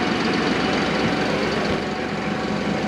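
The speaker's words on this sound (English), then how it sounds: "That is an interesting tractor." Steady, loud engine rumble from a tractor at the Ag in Motion 2023 farm show, continuous with no pauses, heavy low drone and broad noise over it, no talk.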